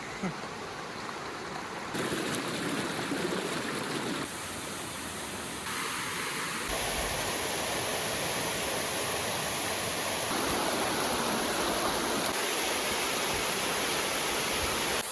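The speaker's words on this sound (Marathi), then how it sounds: "काय धबधबे आहेत, किती छान निसर्ग आहे आमच्याकडचा" Waterfalls rushing in monsoon rain in rural Palghar, a steady broadband roar of falling water that stays constant throughout, shifting slightly in tone as the view moves, with no talking.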